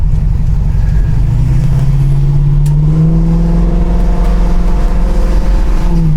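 A 1970 Pontiac Firebird engine revs loud and close, its deep, rich tone climbing steadily in pitch and holding at a sustained roar, with no talking.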